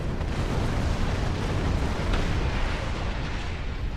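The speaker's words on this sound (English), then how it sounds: "That was a nice explosion." A loud, sustained rumbling blast from a starship explosion during a Star Trek Online space battle, a dense wall of noise holding steady for several seconds with no talk over it.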